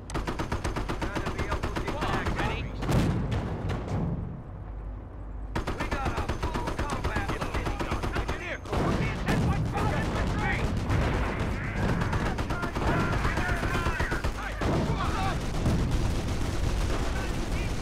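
Machine-gun fire in Company of Heroes hammers out in long, rapid bursts with scattered battlefield blasts. It is loud and close, stops for about a second, then resumes, and voices can be faintly heard under the gunfire.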